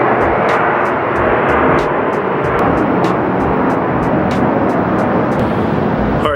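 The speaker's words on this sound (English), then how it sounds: "I think there's a plane coming" A fixed-wing airplane passes overhead as a steady, loud broadband roar that holds evenly for several seconds, alone with no talking.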